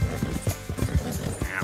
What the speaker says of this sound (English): What is going on with this horse? Why is he freaking out?